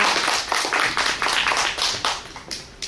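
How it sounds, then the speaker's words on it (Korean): A seated audience gives a round of clapping for a contestant at a national poetry recitation competition, the claps coming in uneven waves at moderate volume with no voices over them. "김미경님에게 큰 박수 부탁드립니다"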